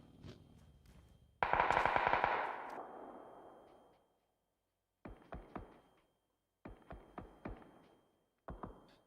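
Gunfire in PUBG during a PGC 2021 Grand Final esports match: a long automatic burst fades out, then short clusters of sharp rapid shots follow after pauses, with no commentary over them.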